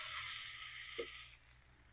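Steak sizzling as it cooks outdoors in a backyard: a faint, steady high hiss that softens and fades toward the end, with one brief low pop in the middle.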